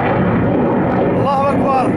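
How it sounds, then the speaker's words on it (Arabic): Warplane bombardment over the city of Maarat al-Numan, Idlib, Syria: a loud, sustained roar of blast and rumble fills the whole clip, with a brief rising tonal whine near the end. "معركة نعمان 21/11/2012 قصف طيران حربي على المدينة."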